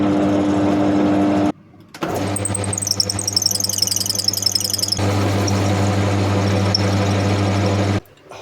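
A lathe converted to work as a milling machine runs with a steady mechanical hum and whine, stopping briefly before restarting and running on continuously, loud and close, with a cutting squeal over part of the run.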